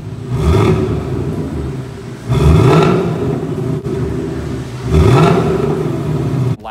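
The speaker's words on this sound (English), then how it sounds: "just did the Steeda resonator delete and it sounds awesome" Mustang GT V8 with Steeda resonator delete revving three times, deep throaty roar swelling and falling between a rumbling idle, loud and close.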